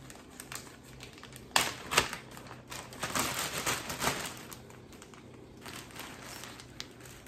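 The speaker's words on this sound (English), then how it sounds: "So here's my little foil that I folded up. Now, we're gonna put it in the baggie." Folded aluminium foil being pushed into a plastic baggie, giving close crinkling and rustling with a few sharper crackles in the middle, then quieter handling.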